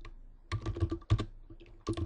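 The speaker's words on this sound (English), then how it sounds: "So I'll type my schedule" Bursts of rapid keystrokes on a computer keyboard come in short clusters separated by brief pauses, close and clear, with no talk.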